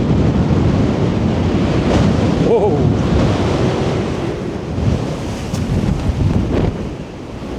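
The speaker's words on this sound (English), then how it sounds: "Wind's picking up again." Strong mountain wind near Glencoe buffets the microphone in heavy, rumbling gusts throughout. A voice briefly exclaims partway through.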